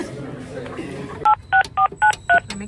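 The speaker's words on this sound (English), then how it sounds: "Let me call you guys to pick up the phone" Five short touch-tone beeps of a phone being dialed ring out clearly in a quick, even rhythm after a stretch of muffled background chatter in a university setting.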